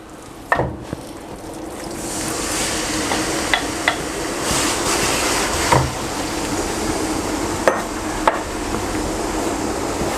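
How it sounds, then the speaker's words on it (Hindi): Mutton mince frying in hot ghee in a wok, a steady loud sizzle with scattered sharp clanks of a spatula against the metal as the meat is stirred, no voices. "कीमे को मैं खूब अच्छी तरह भून लूँगा जब तक बिल्कुल ब्राउन ना हो जाए"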